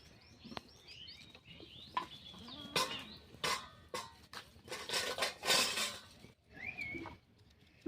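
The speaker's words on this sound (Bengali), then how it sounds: "উনানে কড়াই বসিয়ে দিলাম।" A wok set down on a clay stove in a home kitchen where hilsa curry is being cooked, giving a few sharp metallic clanks and scrapes close by, with chickens and other birds calling in the background.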